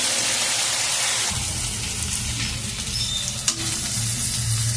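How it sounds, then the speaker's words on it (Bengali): Potatoes sizzle loudly in a pan for a rupchanda fish curry, a continuous close hiss joined by rougher stirring sounds after the first second and a brief clink partway through, with no talking. "একটু ভালো করে কষিয়ে নিয়ে তারপরে জল দিয়ে দেবো।"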